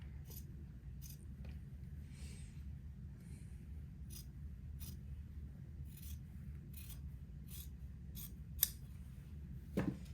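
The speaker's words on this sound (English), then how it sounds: "just cut about 1/4 of an inch away from the line that you just sewed on" Scissors snip through folded fabric about a quarter inch from a freshly sewn seam while sewing a daygown, a series of crisp, close cuts in irregular rhythm over a low steady background hum.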